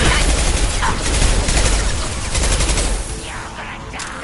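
Dense, continuous video-game gunfire from Mass Effect 2 on PS5, rapid automatic bursts and heavy blasts stacked together at close range, loud throughout with a slight drop near the end.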